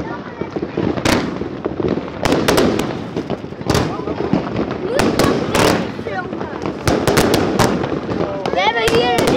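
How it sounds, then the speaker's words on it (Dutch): Fireworks and firecrackers bang repeatedly, some sharp and close, others distant, in an irregular barrage while people talk over the noise. "Allemaal vuurwerk hier zo."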